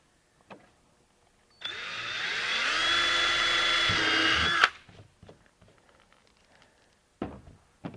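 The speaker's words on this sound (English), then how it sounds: "And we'll drill our second hole" A power drill bores a second hole in a kayak for an accessory mount: one sustained, close motor whine of about three seconds that cuts off sharply, with soft knocks and handling noises before and after.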